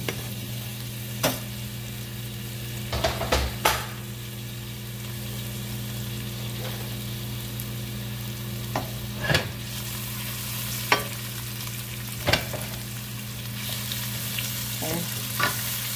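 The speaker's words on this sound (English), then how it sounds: "And to that, I'm gonna add 1/2 of a yellow onion sliced up." Half a sliced yellow onion fries with ground turkey in a pan, a constant close sizzle broken by a few sharp stirring scrapes.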